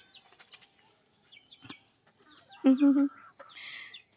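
Farm chickens, freshly bathed and running around on a cold morning, give a few short close clucks and a louder burst of calls, mixed with scattered chirps and a brief wing flutter, between quiet gaps.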